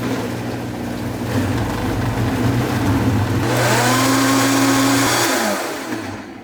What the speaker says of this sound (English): Did my blender just break?